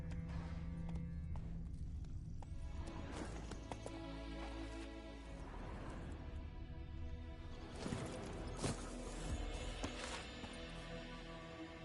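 Horse galloping in The Witcher 3 video game, rapid hoofbeats drumming steadily and close while game music and ambience play underneath.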